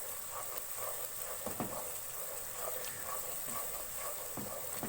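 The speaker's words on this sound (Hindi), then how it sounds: "पिसी हुई लाल मिर्च और हल्दी शामिल करेंगे। और इसको अच्छी तरह से मसाले को भूनेंगे।" Ground red chilli and turmeric fry in oil over a medium flame, a steady soft sizzle with occasional light stirring scrapes, close and continuous.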